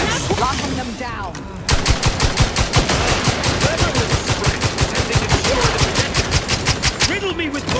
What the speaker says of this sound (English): Riddle me with bullets all you like